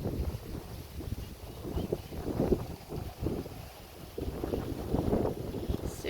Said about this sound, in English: Wow, it's super windy